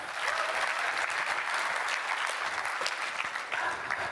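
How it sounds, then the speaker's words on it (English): Audience at a seminar claps steadily in a dense, even round of applause that holds at a constant level for the full few seconds. "Yeah, clap it up, please."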